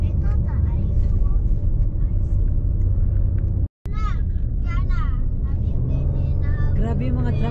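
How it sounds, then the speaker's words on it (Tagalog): Engine rumble of trucks driving along a mountain road, a continuous low vehicle drone heard close with people chatting over it. "Grabe yung mga truck, buti pwede dito yung truck."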